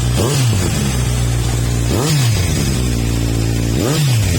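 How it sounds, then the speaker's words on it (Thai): A 2019 Kawasaki Z900SE motorcycle with 19,900 km on it is revved three times at a steady idle, each throttle blip rising sharply and falling back. The engine is loud and close, with no talk. "ผมเบิ้ลนะครับ"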